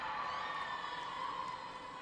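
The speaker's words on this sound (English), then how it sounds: "I just heard cheering" Crowd cheering at a youth hockey game after a goal, a sustained broad roar of many voices with whoops, steady and fairly distant throughout.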